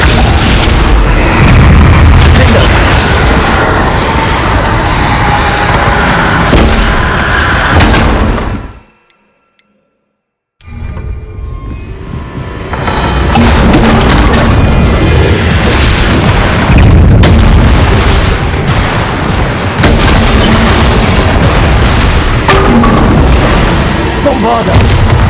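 Repeated spell blasts from the Inferno fire spell in Hogwarts Legacy, loud booming bursts filling the scene almost continuously, with a brief silent gap partway through before the roaring explosions resume.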